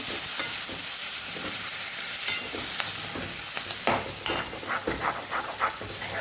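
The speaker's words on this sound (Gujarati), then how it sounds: "અને સરસ તેલ છૂટું પડવા લાગ્યું છે તો ભીંડા ઉમેરી દઈશું" Okra for Kathiyawadi stuffed bhindi sizzles in hot oil in a kadai, a loud continuous frying hiss broken by repeated scraping and clinking stirs, with no talking.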